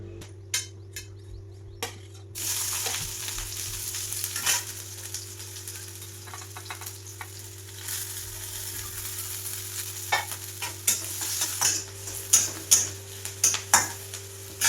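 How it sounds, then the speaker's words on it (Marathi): Whole cinnamon, black pepper, cloves and a piece of ginger dry-roasting in a pan, with close, intermittent scraping and stirring clinks and light crackle over a steady low background hum. "तर आता सगळा जो भाजून घ्यायचा आहे तुम्ही आता भाजून घेते मसाला"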